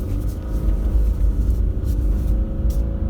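A 2024 Subaru Crosstrek Wilderness accelerates and turns on an icy, snowy road, heard as a steady, loud engine and road rumble from inside the car with no pause over a few seconds.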